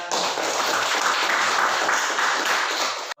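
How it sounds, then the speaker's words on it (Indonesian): A classroom of students breaks into dense, steady applause at close range, the clapping holding at an even loudness for about three seconds before stopping abruptly. "Kita tepuk tangan dong untuk kalian."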